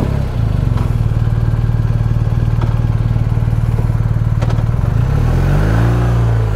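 A 2023 BMW R 1250 RT motorcycle pulling away, its loud, steady engine thrumming with a pulsing beat, then its pitch rising as it accelerates near the end.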